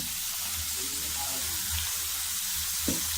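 Cabbage, capsicum, peas and beans sizzle loudly as they are added to frying onions in a pan, giving a continuous bright hiss with a few soft clinks and scrapes.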